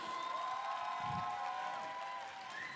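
Concert audience at an anime convention applauding and cheering for a guitarist, a steady wash of clapping and crowd noise with sustained musical tones ringing underneath throughout.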